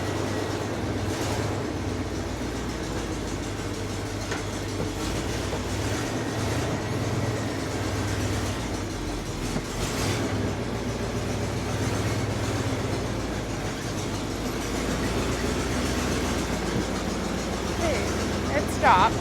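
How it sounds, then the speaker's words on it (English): A car engine runs with a cracked exhaust inside a shop, giving a steady, gruff low rumble that holds evenly throughout, with people talking over it. "You hear how good that cracked exhaust sounds?"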